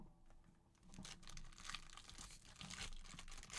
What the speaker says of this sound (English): Good way to open the packs back to front, man.